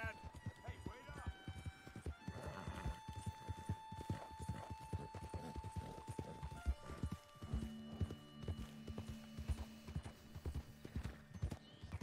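Hooves of a galloping horse in Red Dead Redemption 2 beat in rapid rhythmic clip-clop throughout, with a brief whinny, game music tones and voices talking over the ride.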